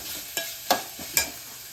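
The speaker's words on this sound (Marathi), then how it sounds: "आता हा कांदा परतायचा आहे त्याच्यावर" Onion sautéing in hot oil in a pan, with a steady sizzle broken by three or four sharp scraping strokes of a spoon stirring it, close and clear.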